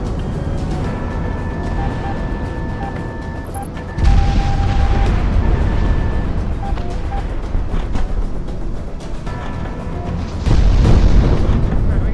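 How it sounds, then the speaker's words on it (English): Unguided bombs exploding in the Project Wingman flight game give loud, deep booming blasts over a steady engine-like rumble, with a sharp surge at the start of each impact. "Back to unguided bombs."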